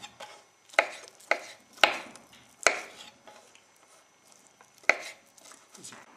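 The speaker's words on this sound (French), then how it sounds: "On coupe les champignons en se débarrassant du pied qui est quand même assez dur. Donc on fait des lamelles." A knife chops through mushrooms on a board, cutting them into strips after the tough stems are removed: six or seven crisp, separate strokes with uneven gaps between them, close and fairly quiet, with no talking.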